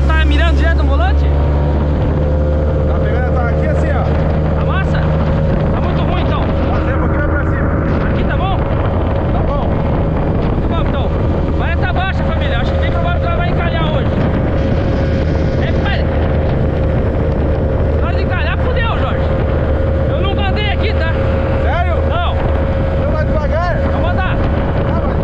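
A mini speedboat motor runs at sea with a constant loud engine drone and buzzing hum, heavy wind buffeting the microphone, and people talking over it throughout.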